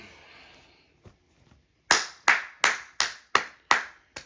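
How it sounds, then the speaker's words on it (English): A short round of hand claps, seven sharp, evenly spaced claps from one or a few people, close and fairly loud, after a quiet stretch with a faint tap. "I want y'all to give that father a round of applause."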